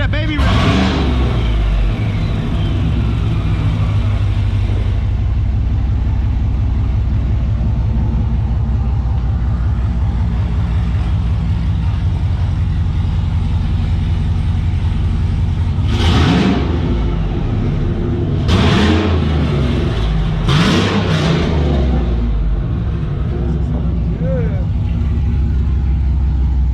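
Car engine with newly installed headers and exhaust idles with a deep, steady rumble, then revs in several short throttle bursts near the end, with people talking nearby.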